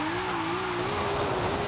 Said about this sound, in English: 2J, definitely one of the better sounding car engines in this game